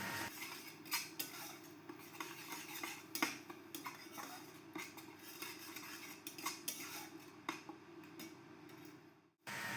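Spices fry in hot oil for a vegetarian paneer butter masala and are stirred in a pan, heard as a low sizzling bed broken by frequent light clinks and scrapes of a spoon against the pan, close and quiet.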